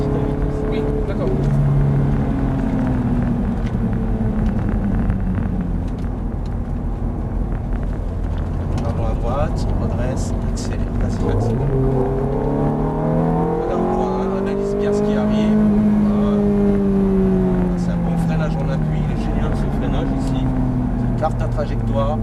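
A Ferrari F430 accelerating on a race track, its engine droning loud and close with rising and falling pitch sweeps throughout, while people talk over it from inside the car.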